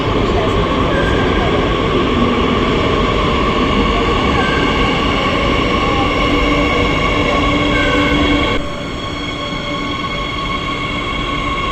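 A Madrid metro train rumbles along continuously, loud and close, with steady wheel noise and faint whining tones; the sound drops slightly near the end.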